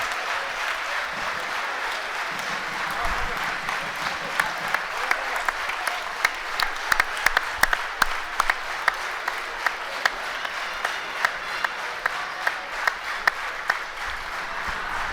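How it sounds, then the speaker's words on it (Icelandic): Spectators in a sports hall applaud the boys' teams after a youth handball cup final between KA and Þór, a sustained crowd ovation with sharp individual claps standing out, continuing steadily for a long stretch. "Áhorfendur sem eru að horfa á okkur í gegnum netið, þið eigið líka að klappa"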